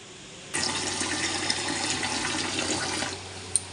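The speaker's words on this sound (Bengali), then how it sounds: "আমি এই যে এখানে গামলার মধ্যে জল দিয়ে দিলাম" Water pours into a large basin holding flour dough for washing, a steady rushing splash of about two and a half seconds that stops and is followed by a single small clink.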